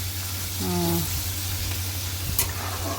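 Crab sukka stir-frying in a pan, a steady broadband sizzle with scraping stirs throughout, a brief utensil clink near the end, no voices.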